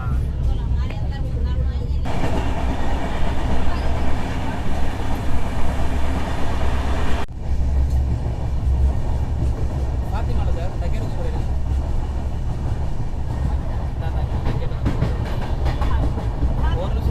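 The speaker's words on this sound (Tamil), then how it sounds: "பக்கத்தில் பார்த்தீங்கன்னா சார்மினார் எக்ஸ்பிரஸ் தாம்பரம்லேருந்து ஹைதராபாத் போகிற ட்ரெயின்." The Charminar Express from Tambaram to Hyderabad runs alongside, heard from another moving train as a loud, continuous rail rumble and rattle, with a person talking over it.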